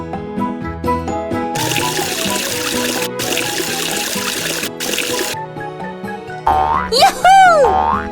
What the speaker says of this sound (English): Wash the bubbles away with water.